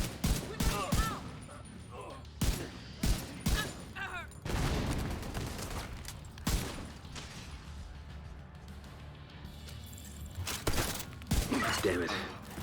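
A deployed turret fires in The Division 2, with sharp repeated gunshots in short bursts, some loud and close, spread across the scene with quieter stretches between them.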